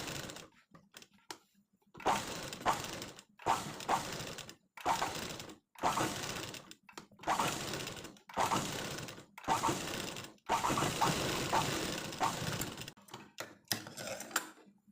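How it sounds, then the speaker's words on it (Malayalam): A sewing machine stitches around a round neckline in short, rattling bursts separated by brief pauses. The mechanical clatter is close and moderately quiet, with no talking over it. "ഇനി അതേ സ്റ്റിച്ച് ഇവിടുന്ന് ഇവിടം വരെ സ്റ്റിച്ച് ചെയ്ത് വരാം"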